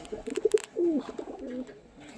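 Fancy pigeons, a young adult breeding pair offered for sale, coo softly. A few short notes are followed by a longer, drawn-out coo, heard close up and alone.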